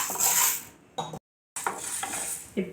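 Moong dal is dry-roasted in a pan on the stove, with brisk scraping and clattering of a spoon against the pan in short bursts and a brief silent gap, close and moderately loud.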